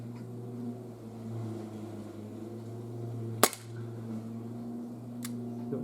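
A SIG Sauer P226 CO2 pellet pistol with blowback fires at a paper target, two sharp cracks a couple of seconds apart over a steady low background hum.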